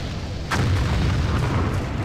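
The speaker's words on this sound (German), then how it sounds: "Boah, diese Artillerie in dem Spiel." Artillery fire in the Empire Earth strategy game, a few deep booming blasts with sharp cracks near half a second and around 1.4 seconds, loud and close, followed by a rumbling low tail with no talk.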